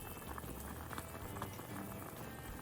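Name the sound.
miso pork soup boiling in a pot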